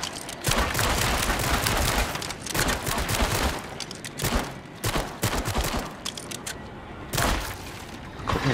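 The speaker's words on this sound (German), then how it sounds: "So, hier kann man alles kaputt schießen." Rapid gunfire in the VR shooter Switchback VR on PSVR2, loud bursts of shots and impacts hammering almost continuously with brief gaps, close and dominant throughout.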